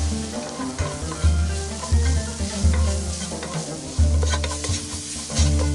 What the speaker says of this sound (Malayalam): ചേർത്തതിന് ശേഷം നമുക്ക് നല്ലപോലെ ഒന്ന് വഴറ്റിയെടുക്കാം